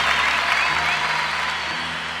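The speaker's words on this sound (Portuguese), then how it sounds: "Aplauda essa palavra." Brief, loud applause from a congregation at a church youth gathering during a sermon, dense clapping over a low steady hum.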